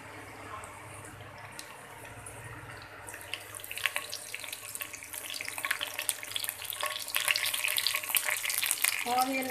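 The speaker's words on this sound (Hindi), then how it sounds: "कड़ी पत्ता डालती हूँ" Curry leaves dropped into hot oil in a pan for pumpkin sabzi, a quiet hum at first, then crackling spitting sizzle that grows louder and denser as the leaves fry.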